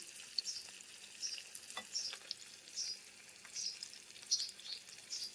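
Dried fish and lentils fry in oil in a pan, giving a quiet, steady sizzle scattered with sharp little pops and crackles.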